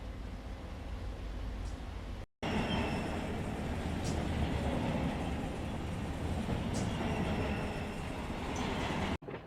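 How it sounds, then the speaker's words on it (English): A freight train in the Run8 Train Simulator game rumbles past close by, a BNSF auto rack train, a continuous heavy roar with clattering wheels and faint squeals, cut by a brief silence early on. "we have a BNSF auto rack train going by"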